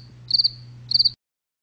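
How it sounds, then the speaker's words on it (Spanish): A cricket chirps in two short trilled bursts over a steady low hum in a Halo machinima scene, loud and close, then cuts to silence. "¿Y el puto grillo?"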